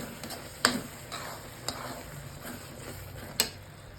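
A coriander powder masala for prawns fries in a pan while being stirred, a soft sizzle under scattered sharp clinks of a spoon against the pan, close and moderately quiet.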